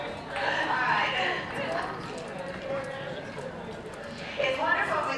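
Horse hooves clip-clop in a steady rhythm during a dressage demonstration before a crowd, running beneath continuous nearby talking.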